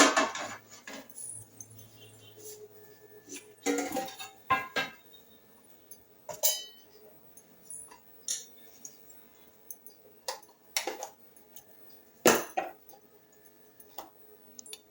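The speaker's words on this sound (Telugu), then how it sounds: "గిన్నె పెట్టేసుకుందాం." A cooking pot set down on a stove in a home kitchen, with sparse metallic clinks and utensil clatter in short separated bursts, close and fairly quiet.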